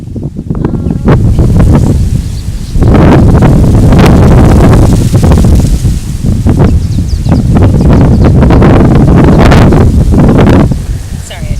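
Strong, gusty wind blows across a hemp field in Hawaii, buffeting the microphone in loud, sustained roaring bursts with a brief lull near the start, while people talk faintly underneath.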